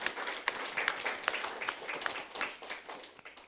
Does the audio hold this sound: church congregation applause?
yes